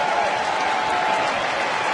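A baseball stadium crowd cheers and applauds in a dense, steady roar through a Boston at Texas game, loud and unbroken from start to finish.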